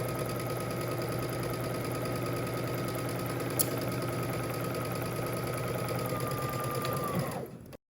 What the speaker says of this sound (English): we're gonna head to the sewing machine and we're gonna stitch using 5/8 of an inch seam allowance